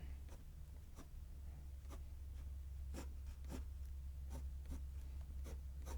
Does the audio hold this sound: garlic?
no